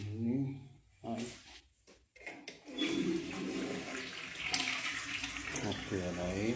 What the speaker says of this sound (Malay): Ini air.